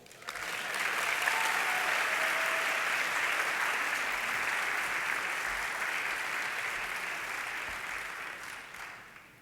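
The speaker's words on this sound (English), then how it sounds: "Ladies and gentlemen, please give a warm round of applause to Dr." An audience at a town hall event claps in a sustained, dense round of applause that swells quickly, holds steady for several seconds, then slowly tapers off.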